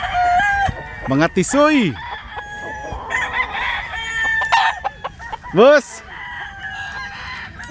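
Roosters crow loudly and close by, with several rising-falling calls and clucking from other chickens, while people speak briefly in between.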